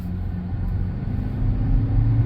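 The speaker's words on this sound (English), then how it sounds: "Electric motor helps it off the line. Gas picks it up." Toyota Prius Prime plug-in hybrid in combined hybrid and EV mode pulling away from a standstill, heard from inside as a steady low hum and road rumble that builds gradually louder over the seconds.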